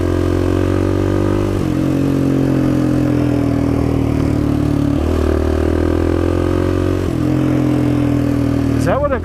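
A car with a failing clutch runs continuously with a low engine drone and shifting tonal harmonics, its pitch stepping with gear or load changes, loud and close throughout, ending in a brief rising whine.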